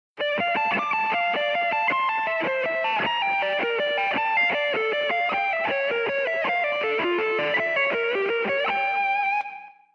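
Distorted electric guitar plays a fast, continuous run of picked arpeggio notes, bright and sustained, for about ten seconds before cutting off.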